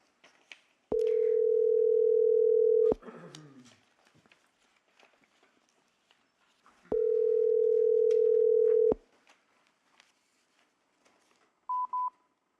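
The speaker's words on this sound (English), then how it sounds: "we have technical difficulties sometimes with the phone calling in, and we don't know from where, so we'll just wait for that to finish" A phone line calling into a public hearing sounds two long, steady telephone tones of about two seconds each. Quiet room noise and faint shuffling sit between them, and a pair of short beeps ends the clip.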